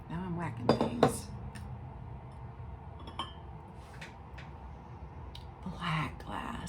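Antique glass pieces clink and knock against each other in a series of sharp, irregular taps, louder at the start and then sparser, with a voice talking quietly in between.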